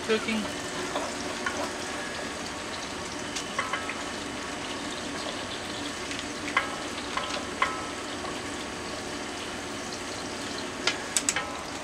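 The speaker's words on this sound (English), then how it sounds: "So we're making our marinara sauce. We've got our onions cooking." Onions fry in a pan for a homemade marinara sauce, giving a steady moderate sizzle with small crackles and the occasional utensil clink, heard close throughout.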